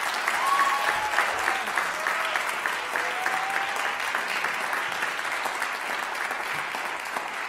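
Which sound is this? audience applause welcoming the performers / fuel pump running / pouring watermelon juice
audience applause welcoming the performers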